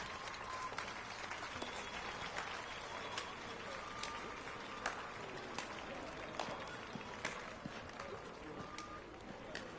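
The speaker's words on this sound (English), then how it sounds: "Wow, he's actually clapping." Steady clapping from a crowd in the video game The Witcher 3 fills the scene, a dense continuous patter of many hands with a few sharper claps standing out, faint and even.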